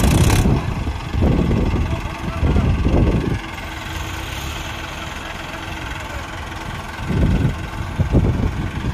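A stuck tractor's heavy engine chugs and idles loudly nearby, a steady low rumble with bursts of revving, while someone talks over it.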